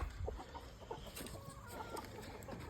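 Broody hens on a homestead cluck softly and repeatedly, with short scattered calls over a faint background hiss and low rumble.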